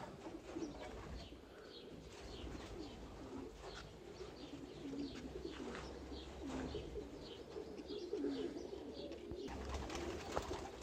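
Racing pigeons coo repeatedly in soft, low rolling calls against a steady background hum, with a few faint chirps mixed in.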